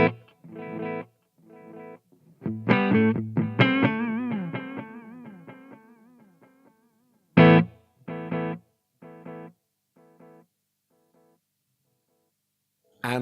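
Guitar through the multi delay mode of a Marshall MG50CFX amplifier: a burst of picked notes spreads into overlapping echoes that scatter and fade in uneven rhythmic taps, followed by one more chord and its trailing repeats.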